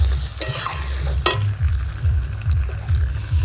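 Tomatoes hit a pan of frying mutton curry, setting off a close, steady sizzle with rhythmic stirring scrapes and a couple of sharp clatters.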